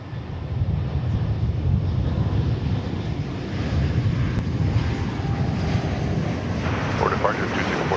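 A heavy Airbus airliner landing at DFW Airport gives a loud, continuous, wind-blown rumbling roar that holds steady throughout, with a voice speaking faintly underneath.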